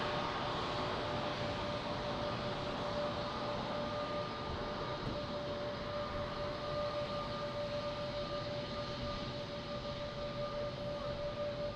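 Aircraft taxiing or pushing back on the ground at Lisbon Airport: a steady, continuous engine roar with a sustained tonal whine running through it, unbroken from start to finish.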